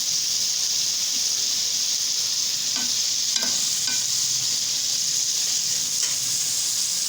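Potatoes and tomatoes are stirred in a pan for aloo palak, giving a steady close sizzle and hiss with a few brief scraping strokes, and no talking.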